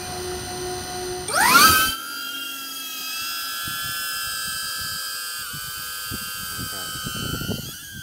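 A DJI Avata FPV drone fitted with a gimbal protector bar takes off: its propellers spin up in a sharp rising whirr, then hold a loud, steady high whine, and a voice talks nearby.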